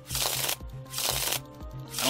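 Cards being shuffled for a tabletop game of Sentinels of the Multiverse, with repeated riffling bursts in close succession, fairly close and clear with no voices over them.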